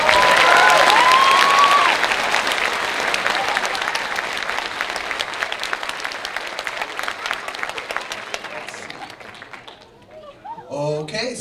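An audience at a second-grade school concert applauds loudly, the dense clapping gradually thinning and fading before voices and cheers rise briefly near the end.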